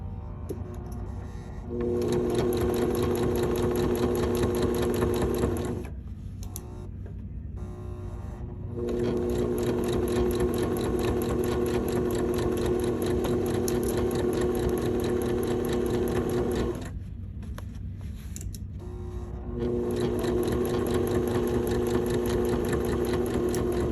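A sewing machine stitches a flat felled seam in fabric, running in steady whirring bursts with two brief pauses where it stops, close and alone without speech.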